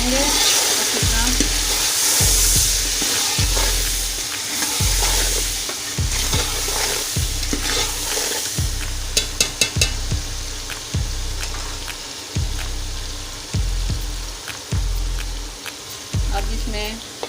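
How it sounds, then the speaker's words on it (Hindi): Masala and spices for chicken biryani frying in a pan while being stirred, a steady sizzle broken by regular scraping strokes of a spoon, close and fairly loud with no talk. "तमाम मसालों को मिक्स करेंगे अच्छी तरह।"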